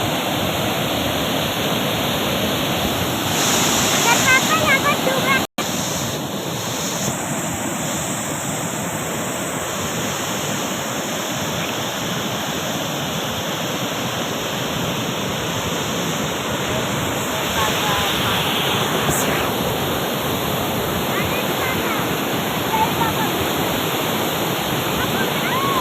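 Bhim Kund waterfall in Mayurbhanj, Odisha, roars with a constant broad wash of rushing water, loud and unbroken, with wind buffeting the microphone now and then and a sharp click partway through.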